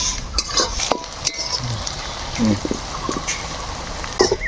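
Goat tripe cooks in oil with a ground spice paste while a utensil scrapes and clinks against the pan in irregular strokes over a soft sizzle.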